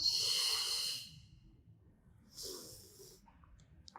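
Deep breathing during a fitness workout, an audible exhale hissing for about a second, a pause, then a shorter second breath, close and fairly quiet with no talk.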